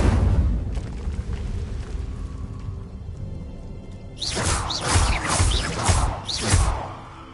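Incendio fire spell cast in Hogwarts Legacy on PS4 Slim, a sudden loud whooshing burst of flame with crackling pulses that swell and fade over a few seconds after a quieter low rumble.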